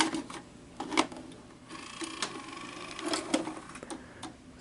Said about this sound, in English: Takes longer to load because it threads the tape after you hit